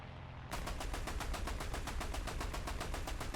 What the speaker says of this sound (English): just test drive these just to see the 30 millimeters firing